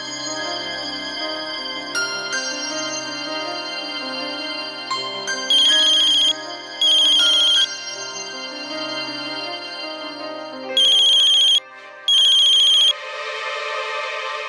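A phone ringtone plays a melodic tune, punctuated by repeated bursts of loud, bright ringing in pairs, with no voices.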